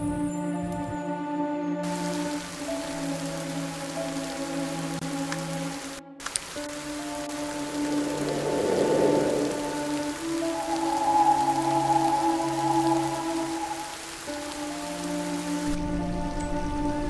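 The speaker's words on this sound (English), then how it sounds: "Has the rain stopped?" Steady rain falls in a detective game set on a farm, a constant hiss continuing under looping game music throughout.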